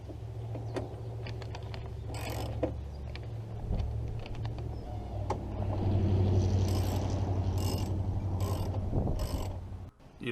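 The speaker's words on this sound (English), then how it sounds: "And finally, tighten all the bolts down." A ratchet tightens bolts on a 2007 Honda Accord door, a close run of quick metallic clicking bursts with brief pauses between them, over a low background hum.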